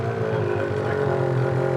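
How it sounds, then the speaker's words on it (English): A steady, loud two-stroke engine drone from a 2022 Lynx Rave snowmobile with an aftermarket exhaust, buzzy and raspy in tone, idling or holding constant revs close by. "That exhaust sounds great."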